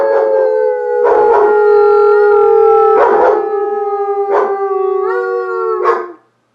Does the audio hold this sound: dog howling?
yes